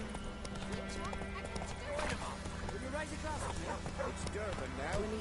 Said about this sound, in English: I think this is my horse.